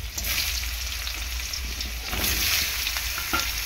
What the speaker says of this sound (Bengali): চাল কুমড়োটা হালকা করে তেলের মধ্যে ভেজে নেব